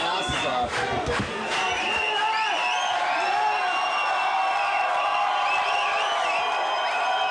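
A rave crowd cheering, whooping and shouting together in a sustained roar, loud and continuous from start to finish with scattered high yells rising above the mass.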